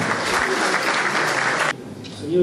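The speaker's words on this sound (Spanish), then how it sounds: "recibamos con un fuerte aplauso" Loud applause from a conference audience at a geology week event, a dense burst of clapping that cuts off abruptly partway through, leaving quieter room noise and a faint voice.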